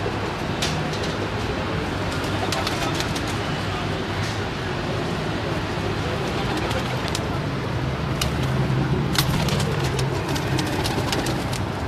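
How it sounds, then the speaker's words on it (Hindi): Chini pigeons coo amid a loud, dense wash of outdoor noise, their calls blending into a constant rumbling background with sharp clicks scattered throughout. "ये जी चीने कबूतर हैं खलीफा रवीज़ साहब के"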